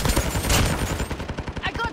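Video game gunfire rips through dense, loud action audio as rapid, evenly spaced bursts of shots, close and continuous across the moment.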